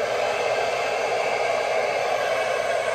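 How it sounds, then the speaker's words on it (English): A handheld hair blow dryer running on warm, medium heat at a low setting, a steady, close, unbroken whooshing hiss of air with no talking. "Now I'm going to turn the blow dryer on."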